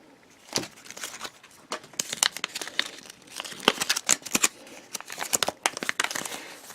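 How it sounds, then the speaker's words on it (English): Plastic crinkling and tearing as a Peppa Pig toy package holding blind bags is opened, in irregular bursts of sharp rustles close by, growing busier toward the end. "Okay, let's open it up and see what we've got. Inside we have 2 blind bags."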